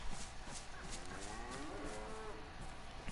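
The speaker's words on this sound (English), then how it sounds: "Got some cows." Cattle in the DayZ video game low faintly in the background, with a drawn-out moo over a steady outdoor ambience.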